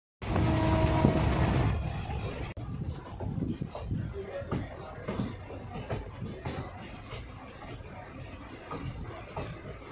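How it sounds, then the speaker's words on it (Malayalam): Passenger train on the Kerala line toward Nileshwaram, Kasaragod, either the Malabar or Maveli Express, heard as a loud, steady rumble that eases into softer rhythmic rattling and clanks, with voices faintly under it. "ഇതിൽ രണ്ടിൽ ഏതെങ്കിലും ഒരു ട്രെയിനിലായിരിക്കും നമ്മൾ കാസർഗോഡ് ജില്ലയിലെ നീലേശ്വരത്തോട്ട്"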